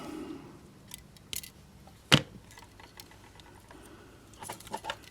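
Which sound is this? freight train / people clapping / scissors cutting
scissors cutting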